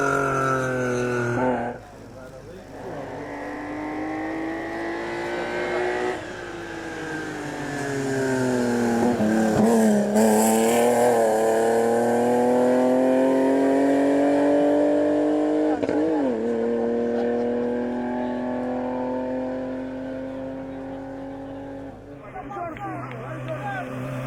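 A BMW E36 Coupé climbs the Rampa da Falperra hill climb, its engine revving hard and loud through repeated gear changes, pitch rising and dropping as it accelerates past and fades.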